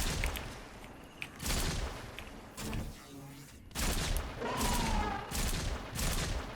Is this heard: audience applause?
no